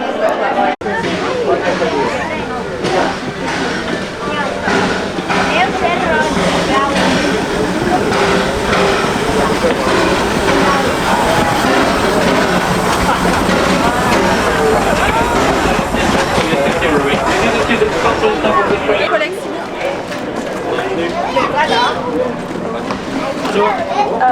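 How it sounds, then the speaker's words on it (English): The Disneyland Paris Railroad train running, a steady rumbling, clattering ride sound throughout, with crowd chatter and people talking over it. "we're gonna get on the train now"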